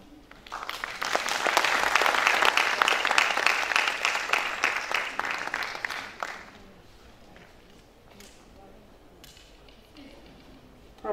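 An audience at a token-of-love distribution event breaks into dense, steady applause for about six seconds before it fades out, leaving a quieter room with faint murmuring.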